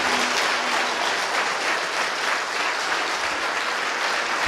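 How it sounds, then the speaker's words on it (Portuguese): Congregation applauding during a church celebration service, a steady, dense wash of clapping that fills the whole space without pause. "Aplauda Ele então por essa palavra bem forte"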